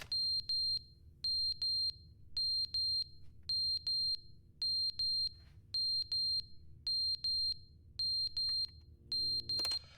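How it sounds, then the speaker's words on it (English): Repeated fire alarm beeping inside a video game, loud clustered electronic beeps in a steady rhythm, about a dozen bursts over ten seconds, with no talking. "Oh, it's the fire alarm."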